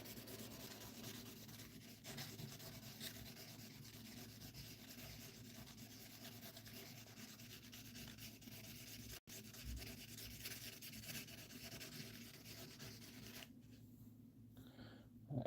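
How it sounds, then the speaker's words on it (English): Opal is hand-polished on 800 grit sandpaper with a steady, quiet, close-up rubbing and scraping rasp, continuous strokes with no voices. "Uh, 800 grit sandpaper. Just checking to see if there's any ridges."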